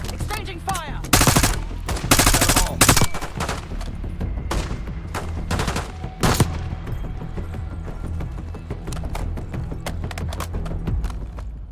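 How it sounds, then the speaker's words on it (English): Rapid gunfire exchanged in a Black Ops 6 firefight, with dense bursts of automatic shots and single cracks, loudest early and then continuing as scattered volleys against a low rumbling game backdrop. "Exchanging fire!"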